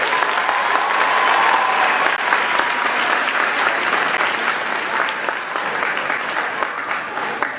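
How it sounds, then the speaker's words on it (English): Loud, sustained applause from a graduation audience for young graduates, dense and even clapping that holds steady throughout with a slight easing near the end. "Everybody, give these youngsters a round of applause."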